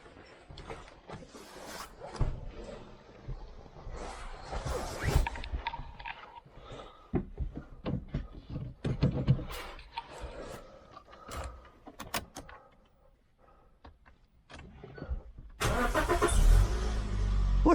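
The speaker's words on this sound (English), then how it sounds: "I'm going to do a cold start on it because I've never done a cold start on this car" A car's engine is started from cold in a workshop, preceded by clicks, clunks and shuffling handling noises, then the engine catches near the end and settles into a loud, close rumbling idle.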